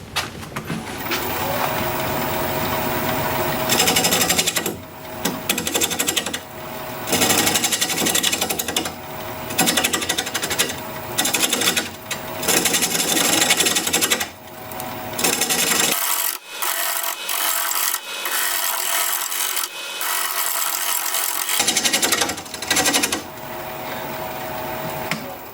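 Turning tool cutting an olive wood bowl on a lathe, with a harsh, rasping scrape that comes in long passes broken by short pauses and one longer quiet gap, loud and close with no talking.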